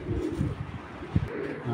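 Racing pigeons coo in a close, steady series of soft throaty calls, repeating rhythmically with a low background hum.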